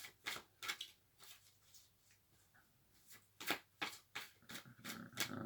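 Tarot cards being shuffled by hand in quiet bursts, each a crisp riffling flutter, several in a row with pauses between, soft and close with no talking.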